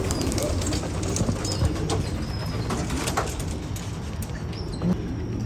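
Flock of racing pigeons and Birmingham roller pigeons out flying, with soft cooing and wing flutters over a continuous outdoor background, no talk.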